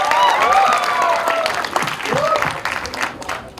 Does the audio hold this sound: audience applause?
yes